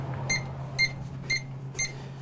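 An RV leveling device, the LevelMate Pro+, gives four short, evenly spaced electronic beeps about half a second apart over a low steady hum.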